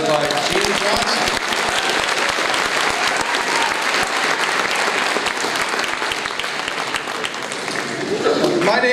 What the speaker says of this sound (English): a round of applause for this great jazz band led by Gene Johnson